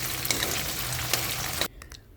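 Lumpiang singkamas with sweet potato frying in hot oil, a dense, steady crackling sizzle up close that cuts off abruptly near the end, leaving quieter faint pops.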